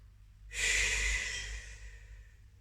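A single deep, audible exhale during a child's pose rest in a pilates hips and glutes session, a soft breathy rush that swells and slowly fades under faint low background hum.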